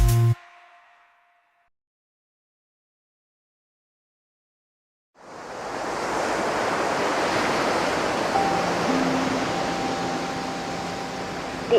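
Surf rolling in at a loud beach on a warm afternoon, arriving after about five seconds of near silence as a steady, close, wide roar of breaking waves that holds to the end.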